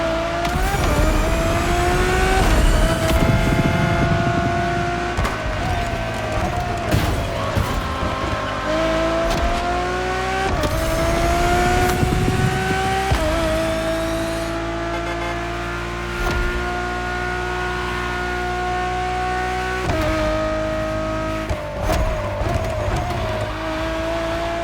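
A Ferrari road-legal Formula One car in The Crew Motorfest racing game howls through repeated upshifts, its engine pitch climbing and dropping sharply with each gear change, loud and continuous with a hint of tire noise.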